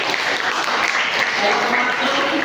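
A classroom of students claps together in sustained, dense applause. It is loud and continuous throughout, with a voice faintly mixed in.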